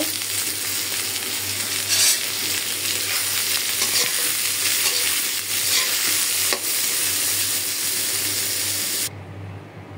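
Greens stir-fry in a pan with onion, garlic and green chili, giving a loud, dense, continuous sizzle with occasional stirring scrapes and spatters that drops away abruptly near the end, with no speech.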